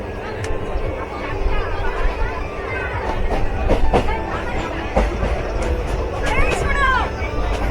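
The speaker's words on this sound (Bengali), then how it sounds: "আমরা এখন প্রবেশ করলাম হলদি নদীর ওপরে যে রেলওয়ে ব্রিজ আছে এইটার" A Santragachi to Digha special passenger train crossing the railway bridge over the Haldi river, heard from on board: continuous rolling rumble with rhythmic clickety-clack of wheels and faint passenger chatter in the background.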